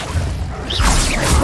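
A fiery Incendio spell is cast in Hogwarts Legacy, a brief swishing whoosh followed by a close, rushing burst of flame and a low thump, loud and over in about a second.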